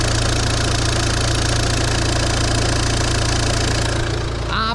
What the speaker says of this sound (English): this car now has been running for about 5 minutes